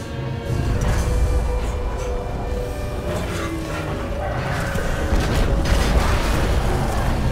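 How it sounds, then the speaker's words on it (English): A series of explosions in Titanfall 2 merge into a sustained loud, rumbling boom with dense low-end roar, steady for several seconds with no clear breaks between blasts. "Series of explosions just weakened the manipulator arm."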